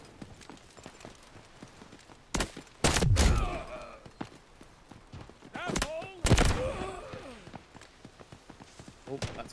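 Light machine gun fire in the Delta Force extraction shooter, loud close bursts of rapid shots with ringing echoes, heard in two main volleys among scattered footsteps while players talk over the action.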